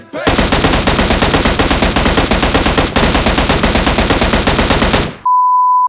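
An M16 rifle firing full-auto in PUBG Mobile: one loud, rapid, unbroken stream of shots lasting about five seconds, then a steady electronic beep right after the firing stops.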